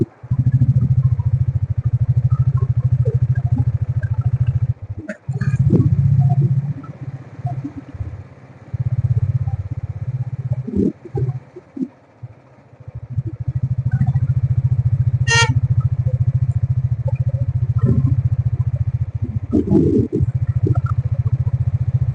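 Royal Enfield Classic 350 motorcycle ridden on a road toward a hill, its steady low single-cylinder thump loud and continuous, dropping briefly around mid-ride with a few clicks and clatters before resuming at full drone.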